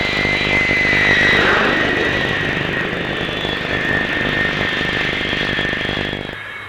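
An Avro Vulcan jet bomber landing at the Farnborough air show with its parachute brake deployed, a loud sustained jet engine roar with a high whine that fades slightly toward the end, no voices.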